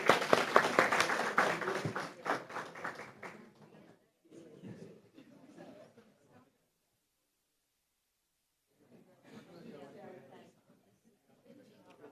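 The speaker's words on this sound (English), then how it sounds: "Let's give them another round of applause" Audience applause at a school board meeting: a loud burst of clapping for about three seconds that fades into scattered claps, followed by quiet murmuring and voices.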